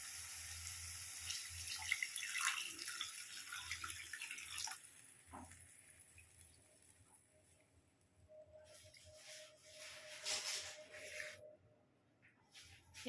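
Water splashes and trickles faintly into a pan of spiced rui fish curry with spring onions, a soft rushing pour followed by brief scraping and quieter, sporadic trickles close by.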